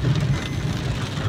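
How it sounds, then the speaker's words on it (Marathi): Evening rain pours steadily on a road in a Konkan village during September, a brief, continuous patter with a low rumbling hum beneath it. "संध्याकाळला बरोबर पाऊस आला."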